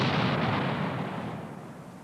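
A demolition charge set off by assault pioneers in beech woods booms at close range, then its deep rumble slowly fades away over about two seconds.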